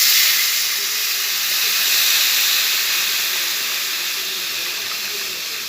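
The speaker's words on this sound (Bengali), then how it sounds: "একটু জল দিয়ে দেবো।" Water poured into a hot pan of spice mixture for a yam curry hisses and sizzles loudly. The broad, steady steam hiss fades slightly over several seconds.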